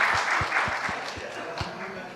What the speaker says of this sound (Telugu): big claps for him actually